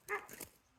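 A dog at a zoological centre gives a single short bark, close and fairly clear, followed by quiet.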